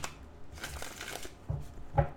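Tarot cards being shuffled by hand, a few soft riffling and slapping bursts close by, the last two sharper, with no talking.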